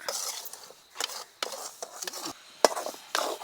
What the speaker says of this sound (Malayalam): ഇങ്ങനെ കൈ വിടാതെ ഇളക്കി കൊടുക്കാം